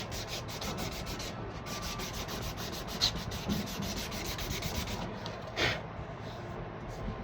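Sanding a wooden shotgun stock by hand with 320 grit sandpaper gives a quiet, close, continuous rubbing hiss of even strokes, with a couple of small knocks and no talking.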